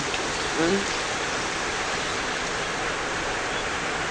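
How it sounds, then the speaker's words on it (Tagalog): Water poured into a cooking pot, a steady broadband rush that runs through the whole stretch at moderate level, with a brief voice near the start. "Lagyan po natin ng tubig."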